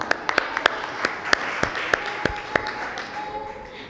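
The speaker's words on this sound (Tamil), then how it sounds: "சாந்தி அவர்களுக்கு ஒரு கைத்தட்டல் கொடுத்துருவோம்" Audience clapping at a church children's Christmas programme after a Tamil song, with sharp individual claps standing out over a looser spread of hands and some voices mixed in.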